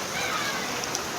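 Rain falls in a steady, close hiss of drops hitting surfaces, with a couple of faint clicks and a voice talking underneath.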